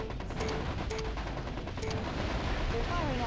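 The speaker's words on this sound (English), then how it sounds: "They're firing at me." Mech weapons fire in the strategy game MechCommander Gold, a rapid run of gunshots and blasts over a constant battle rumble, with radio voices talking in between.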